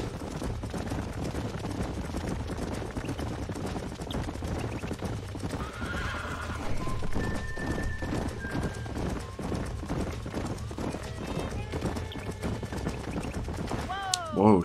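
Horse hooves clip-clopping in the video game Red Dead Redemption, with horses whinnying, in a steady trotting rhythm beneath in-game voices and talk.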